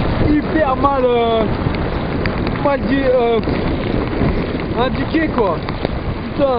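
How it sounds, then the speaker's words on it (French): Heavy rain on a road trip, a dense continuous hiss under someone talking in French, with the voice prominent throughout. "il pleut sa mère"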